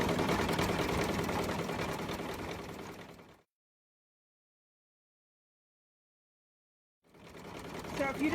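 An embroidery sewing machine stitches a decorative edge on a 5x7 pinch pouch with a rapid, steady mechanical chatter. It stops abruptly, goes silent for several seconds, then starts up again.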